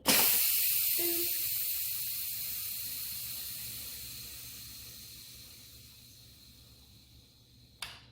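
A loud, continuous hiss of steam venting from an Instant Pot pressure cooker after cooking shredded chicken, slowly tapering in strength over several seconds, ending with a short burst.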